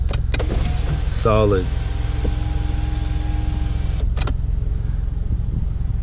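An electric sunroof motor on a 2012 Scion tC whirring steadily as the roof closes, set off by clicks and a thump at the start and end, with a brief spoken word and a constant low cabin hum underneath.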